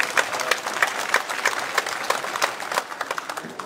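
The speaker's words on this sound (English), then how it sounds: "let us give them a round of applause and lift their spirit" Applause from an audience at an interfaith forum held in a performing arts venue, with several strong rhythmic claps standing out from the steady background clapping before it fades slightly.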